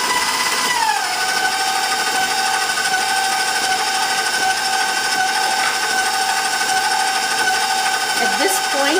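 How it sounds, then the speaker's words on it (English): An electric kitchen mixer runs steadily with a loud, constant motor whine while avocado chia seed bread batter is mixed. The whine shifts pitch briefly near the start, with light kitchen clatter toward the end. "Turn on our mixer."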